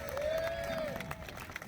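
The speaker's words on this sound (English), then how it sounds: "Come on, give a round of applause for that." An audience at a Walk of Fame induction ceremony in Atlantic City gives a steady round of applause, a dense crowd wash that holds throughout, with a faint whistle-like tone over it.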